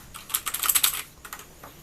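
Typing on a Rexus Legionare MX 3.2 mechanical gaming keyboard with blue switches: a quick, close burst of crisp, clicky keystrokes, then a short pause and a few more taps, with no voices.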